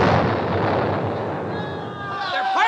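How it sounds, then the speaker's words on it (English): Pirates' gunfire and cannon blasts roar during an attack on a fort in a vintage vinyl story recording, a loud continuous barrage of booming bursts with shouting voices rising over the din. "They're firing at us."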